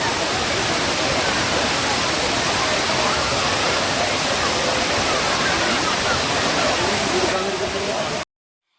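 Rushing water at Areekkal waterfall in Piravom, a steady, loud broadband roar that runs unbroken until it cuts off abruptly near the end.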